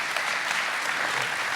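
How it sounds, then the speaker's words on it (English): Thick, steady applause from a congregation during a church service, a brief continuous wash of many hands clapping. "You guys could clap for that, why not?"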